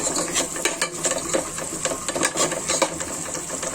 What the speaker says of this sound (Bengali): এটা একটু নেড়ে দিব